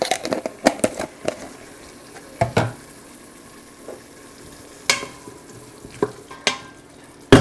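Onions and garlic cooking in a pot for an Instant Pot roast pie, with a soft sizzle under repeated stirring scrapes and clinks of a utensil against the pot, nearby and intermittent, with no talk.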